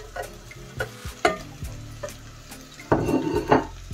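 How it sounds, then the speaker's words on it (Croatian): A spoon scrapes and clacks against a pot as tripe stew with onion and carrot is stirred, with a faint sizzle beneath, irregular knocks and a louder burst of stirring near the end. "Malo ćemo da promješamo sve."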